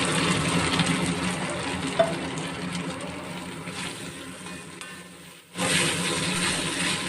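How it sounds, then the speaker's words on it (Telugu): Boiled sesame flour being stirred into a hot, sizzling tempering in a pan: a steady frying hiss with soft scraping, briefly dropping away before the sizzle surges back loudly. "ఈ తాలింపులో తెలగపిండి బాగా కలుపుకోవాలండి"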